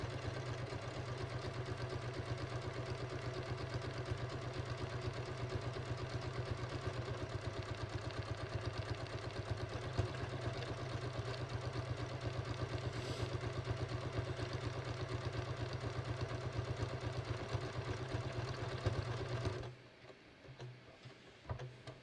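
Steady rapid mechanical ticking of a sewing machine stitching a button vent on shorts, continuous and even for about twenty seconds before stopping abruptly.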